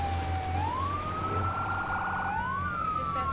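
An emergency vehicle siren from the Firefighting Simulator The Squad video game wails in smooth rising and falling sweeps, steady and clear over a low engine rumble, with no talking.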